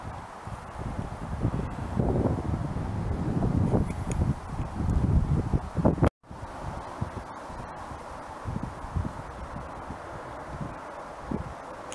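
Steady wind buffeting outdoors at an old lime kiln and chalk pit in Oxted, gusting and rumbling against the microphone with a brief dropout midway, then continuing as a softer rushing noise.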